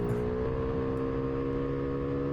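An old car's engine in the Roblox racing game SSS Racing, holding a steady droning hum with even harmonic tones as it takes a corner at speed, loud and close with no voices.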